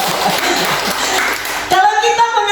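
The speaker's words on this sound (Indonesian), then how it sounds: "Tepuk tangan buat Tuhan dong." A church congregation applauding during a Thursday worship service, a dense wash of clapping with voices mixed in, broken by a sudden shift to sustained tones near the end.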